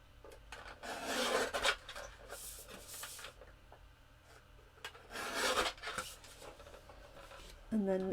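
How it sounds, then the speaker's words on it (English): Cardstock is trimmed for card making, with several bursts of close rasping and scraping between quiet gaps, while a voice talks faintly. "Okay, so I need to trim this one down"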